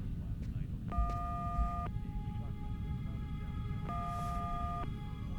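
Telephone tone from the video game Fahrenheit: two steady, ringing tone bursts about a second long, separated by a pause, over constant low hiss and rumble.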